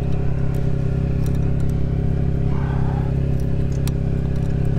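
Steady mid-pitched engine drone of a Jeep Wrangler JLU Rubicon working to pull a stuck vehicle out of sand, running continuously at a constant, fairly loud level with no talking.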